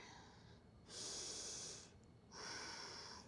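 Breathing held in a yoga half split: two slow, close, airy breaths, each a soft rushing hiss of about a second, separated by a short pause, quiet and alone.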